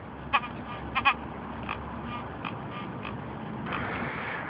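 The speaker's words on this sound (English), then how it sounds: "This is going to be the GMT grunting is what they call it." A White's GMT metal detector grunts over a buried target in an urban park, giving a few short, low buzzy bursts near the start and another around the middle, over steady outdoor background noise.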